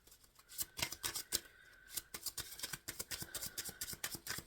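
Tarot cards being shuffled by hand in a quiet room, a rapid run of crisp papery flicks and riffles with short pauses, close and fairly soft, no voice over it.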